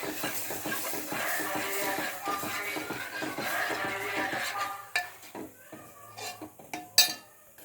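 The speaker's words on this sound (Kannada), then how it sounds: "ಸ್ವಲ್ಪ ಅರಿಶಿನ ಪುಡಿನೂ ಹಾಕ್ಕೊಂಡು ಮಿಕ್ಸ್ ಮಾಡ್ಕೊತಾ ಇದ್ದೀನಿ" Tomato rasam with mashed lentils and turmeric powder being stirred in a metal pot: a busy run of clinks and scraping against the pot, ending in a few louder separate knocks of the utensil.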